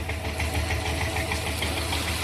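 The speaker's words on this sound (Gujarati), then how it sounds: "અહીંયા તો મિત્રો હાલી જાય છે બોટ" A boat engine runs steadily at close range, a loud continuous low rumble with a faint rhythmic knock and no pauses.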